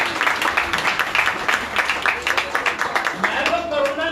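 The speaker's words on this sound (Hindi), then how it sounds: "ताली बजा के धन्यवाद करेंगे।" A congregation at a Bethel Prayer House gathering in Ludhiana claps together in a steady, fast rhythm of many hands. Voices and talk carry on over the loud clapping throughout.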